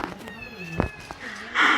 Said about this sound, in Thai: แล้วแมวก็ร้องเหลือกูเนาะ